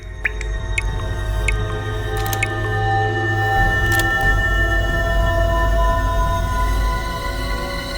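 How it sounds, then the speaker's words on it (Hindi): Water drips steadily inside a closed, empty flat, a series of sharp plinks and squishy droplets over a low rumbling background hum, with no talk. "ये पानी कहां से टपक रहा है?"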